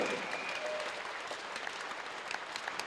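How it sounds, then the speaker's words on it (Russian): Audience applauding at an MMA fight event between Artem Valkitov and Loren Javier Jorge, steady moderate clapping filling the clip with no speech over it. "А зрители наши аплодируют."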